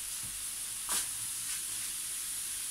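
Apples caramelizing in a pan, a soft steady hiss and sizzle with a brief louder scrape of stirring near the start, quiet and close, with no talking.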